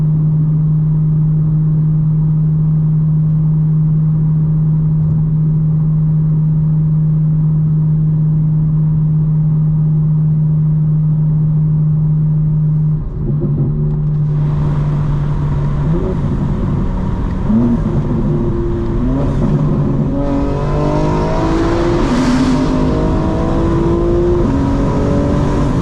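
A 2025 BMW M4 Competition xDrive at night, first holding a steady droning cruise tone, then the exhaust opens up as it accelerates hard through rising, stepping gear pulls, loud and close.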